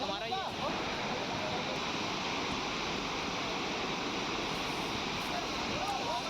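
A waterfall roars in a dense, steady rush of water as its flow swells, loud and unbroken throughout, with no other sounds standing out.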